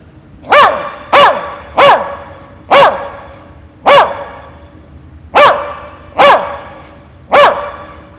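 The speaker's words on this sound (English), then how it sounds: "he's going to bark the first number of the last 2 digits" A trained dog at a live golf show barks on command, giving eight loud, sharp barks in an uneven rhythm with short pauses between them, close by and with no talking.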